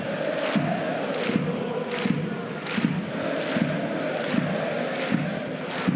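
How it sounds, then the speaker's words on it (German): Spectators at an Austrian league football match between LASK and Rapid clap in a steady rhythmic beat across a large stadium, a continuous crowd roar underneath the evenly spaced claps. "Applaus der Besucher"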